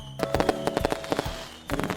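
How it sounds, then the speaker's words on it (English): Fireworks going off at Disneyland in a dense run of sharp booms and crackles, loud and echoing, a short pause, then another cluster of bangs. "here are some fireworks for you right now"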